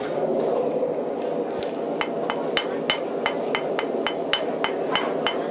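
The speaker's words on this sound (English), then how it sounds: "I'm gonna take this ball peen hammer and I'm gonna angle it right where your finger group's gonna be" A ball peen hammer strikes metal repeatedly at a steady pace, sharp ringing clinks over a constant background hum, no voices.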